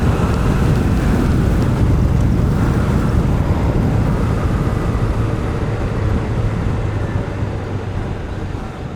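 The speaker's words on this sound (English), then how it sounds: "How does the wind sound?" Wind rushing past while a boat moves fast over the water, giving a loud, continuous roar and buffeting mixed with engine and hull noise that eases slightly toward the end.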